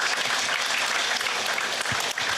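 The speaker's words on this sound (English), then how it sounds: "A big round of applause for Prakash." An audience at a company success meet applauds a guest from the HR team, dense continuous clapping close and loud throughout, with no speech over it.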